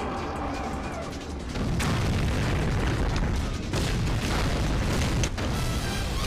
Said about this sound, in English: look at that great explosion